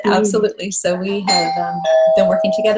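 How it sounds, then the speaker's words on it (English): A doorbell chimes at a party during a product launch event, its sustained tone sounding under close, loud conversation from people talking nearby. "That's our doorbell."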